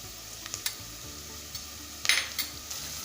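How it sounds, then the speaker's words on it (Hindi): Onions fry quietly in a pan under a soft continuous sizzle, punctuated by a few sharp clinks and scrapes of a spoon stirring against the metal. "प्याज हमें तकरीबन इतने फ्राई करने हैं"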